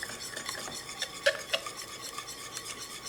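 A spoon stirs egg into a creamy bechamel sauce in a pot for stuffed eggplant, soft continuous stirring with a couple of light clinks against the metal, close and quiet, no voices.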